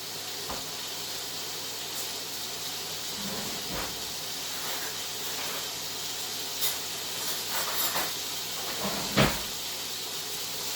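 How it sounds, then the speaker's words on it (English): Steady hissing sizzle of bacon frying in a pan, with occasional faint knocks and clatters against the constant crackle. "just keep an eye on the bacon, keep frying it, making sure it's getting crispy"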